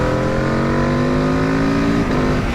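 A 2021 Aprilia RSV4 1100 Factory motorcycle engine drones loud and close with a steady, throaty tone, shifting pitch briefly near the end with no talking over it.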